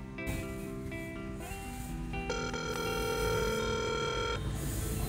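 A Zalo video call rings on an LG Wine flip phone with a steady electronic ringtone, loud and close, a repeating melody of sustained tones with no talking.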